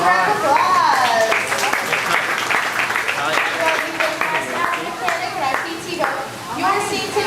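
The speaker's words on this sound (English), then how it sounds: "Give her a round of applause." Audience applause on a studio tram tour at a theme park, a crowd clapping steadily throughout while voices, including a child's, are heard over it.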